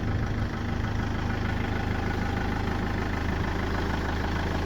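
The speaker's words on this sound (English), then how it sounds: "The engine doesn't sound too bad." A Land Rover Freelander Td4 diesel engine idles with a steady, low rumble, running evenly with a constant drone and no revving, fairly close.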